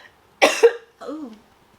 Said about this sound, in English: That was a cute little cough.